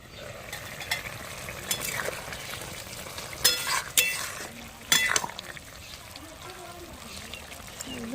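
A pumpkin, potato and Malabar spinach curry simmers in a pot being covered with a lid, with soft bubbling, a few sharp metallic clanks and scrapes, and low talk in the background.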